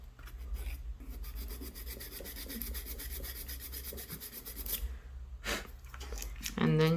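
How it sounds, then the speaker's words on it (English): Artificial nail being filed down on top to slim its shape during a manicure, a steady close scratchy rubbing that runs nearly throughout with brief pauses, under a low background hum. "I'm just filing the top part up here right now"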